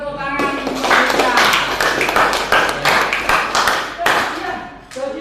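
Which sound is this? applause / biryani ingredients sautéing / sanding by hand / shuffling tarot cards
applause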